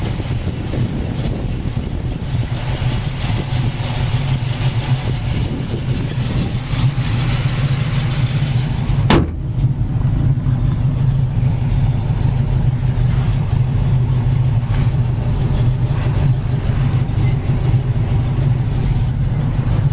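A 1970 Chevy Camaro with quiet headers idles in a steady, close rumble for about twenty seconds, with a brief click midway and no one speaking over it.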